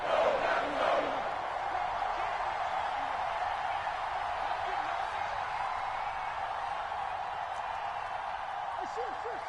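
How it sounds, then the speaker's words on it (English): Stadium crowd noise from a PS4 American football video game rising ahead of a big third down, a steady, roaring wash of cheering with a sharp swell at the start, then sustained throughout. "the crowd getting into it as we come up on a big third down"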